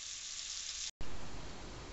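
Bacon frying in a pot gives a steady, close sizzle and hiss, broken by a brief silent gap before the crackling resumes louder.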